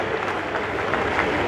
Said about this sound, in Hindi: बराबर तालियां बजाते रहिएगा।